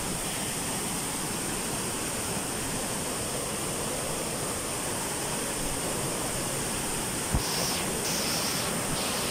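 A steady, loud rush of falling water from Daranak Falls in Rizal fills the scene continuously, with a faint brief knock near the end.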